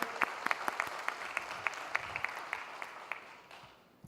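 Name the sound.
applause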